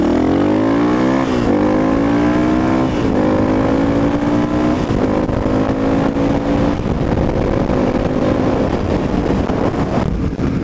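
A motorcycle ridden at speed, a 2016 Honda Africa Twin, its engine droning loud and close throughout, with rising pitch sweeps as it accelerates and shifts gears, under steady wind rush.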